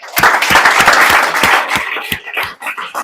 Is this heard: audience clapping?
yes